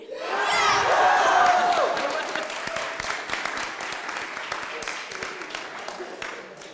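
A crowd of school supporters at a speech contest bursts into loud cheering, whoops and applause that peak early and then taper into scattered clapping.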